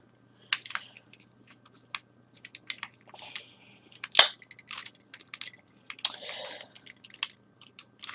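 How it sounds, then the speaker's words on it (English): A lighter is clicked over and over without catching while making dice: sharp dry clicks and small scratchy snaps at irregular intervals, one louder snap in the middle, close and quiet against silence. "I appear to have stopped knowing how to use a lighter"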